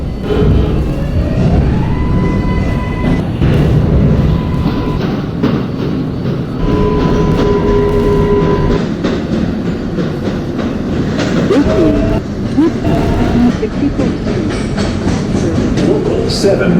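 A Manhattan-bound 7 local subway train in a Roblox game runs with a continuous rumbling roar and rhythmic clickety-clack over the rails, loud and close. Steady motor whines rise and fall, and announcements play over it.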